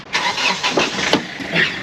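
A car engine cranks with a few rhythmic churning pulses and catches, loud and close, in a short burst with no talk.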